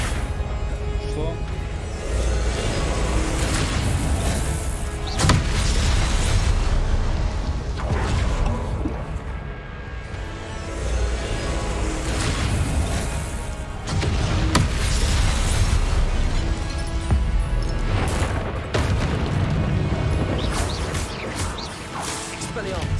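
Confringo and Incendio spell blasts in the game Hogwarts Legacy, a loud sequence of whooshing casts and crashing impacts that recur every few seconds under a steady bed of game sound, with a voice talking throughout.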